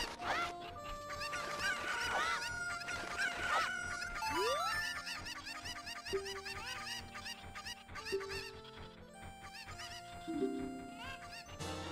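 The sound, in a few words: cuckoo chickens clucking in a Zelda video game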